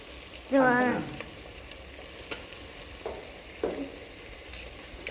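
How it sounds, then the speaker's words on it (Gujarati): Soaked chillies land in hot oil with a sudden close sizzle that fades quickly, followed by a few soft stirring clinks and scrapes. "હવે આપણે નાખી દેવાનું છે આપણું મરચું પલાળેલું"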